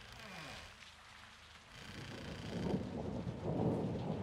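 Heavy rain pours in a Modern Warfare 2 game level while low thunder rumbles, the downpour swelling louder toward the end as a steady hiss with deep rolling undertones.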